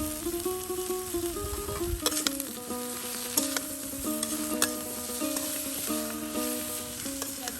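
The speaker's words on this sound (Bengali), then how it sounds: "শাকগুলো উঠিয়ে নিয়ে এসে এই যে দেখুন এখন ভাজা ভাজা করে নেওয়া হচ্ছে" Helencha greens frying and sizzling in a pan in a village kitchen, a steady loud crackle with occasional stirring scrapes and a musical tune playing over it.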